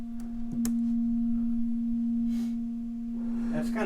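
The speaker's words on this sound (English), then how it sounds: "Let me switch it to a sine wave." A steady, pure sine tone from a modular synthesizer oscillator hums continuously at a constant pitch, with a few faint clicks and a brief burst of noise near the end.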